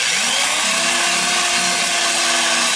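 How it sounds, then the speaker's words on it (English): Inside of a wooden burl bowl being sanded on a lathe, a loud continuous whirring hiss with a steady motor hum, close and uninterrupted. "Now I'm going to start sanding the inside with the lathe stuff."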